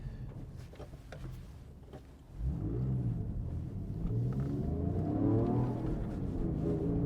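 A Porsche 911 997.2 Carrera S with a manual gearbox rumbles at idle, then about two seconds in the engine catches a sharp rise and climbs into a sustained, rising rev, loud and close without talk.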